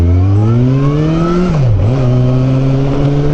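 A motorcycle engine drones steadily through evening rush-hour commuter traffic, its pitch dipping briefly as the rider eases off and then settling back to an even, loud cruise close to the microphone.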